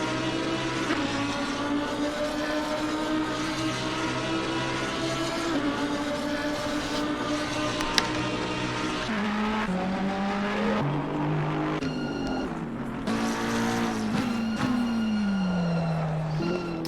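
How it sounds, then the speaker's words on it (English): Lamborghini and Audi R8 GT race cars lapping Bathurst in the Assetto Corsa Competizione racing game, with continuous loud engine drone, rising and falling revs and gear shifts, and a commentator's voice faintly mixed in. "As these two go down for another lap through Hell Corner, can Bo Ersma in that Lamborghini keep up with the Audi R8 of Kieran Fox?"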